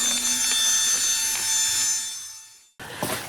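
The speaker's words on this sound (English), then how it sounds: "Now we're going to blow them the rest of the way up with this little blower." A small electric blower inflates sleeping pads with a steady, close whirring hum. It runs evenly for nearly three seconds, then cuts off abruptly, followed by a brief rustle.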